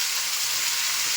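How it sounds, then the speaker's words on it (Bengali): Potatoes fry in oil tempered with cumin seed, giving a short, even, loud sizzling hiss with no talking. "একটু জিরে ফোড়ন দিয়ে আলুগুলো ভাজবো।"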